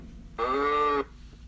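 Cow moo from a Bach Peekaboo Farm baby toy, one loud, close, steady electronic lowing tone lasting under a second.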